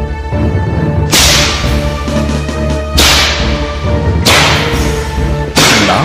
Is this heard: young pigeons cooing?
no